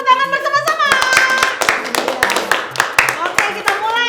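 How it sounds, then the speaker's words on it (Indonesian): A group claps hands in a lively rhythmic pattern at a Sunday school, over music and children's voices, the claps sharp and close. "kita tepuk tangan bersama-sama."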